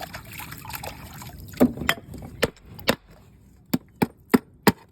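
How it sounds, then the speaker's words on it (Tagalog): A wooden pounding tool knocks clusters of heavy oysters off a bamboo fence in water, with a loose series of sharp, close knocks and thuds, irregular at first and then more evenly spaced, amid faint splashing. "Ang ingay ng ating pamukpok."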